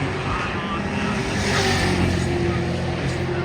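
Race cars at Raceway Park, a red, white and blue car among them, roar around on a practice lap, a steady loud engine drone holding throughout with a voice talking over it.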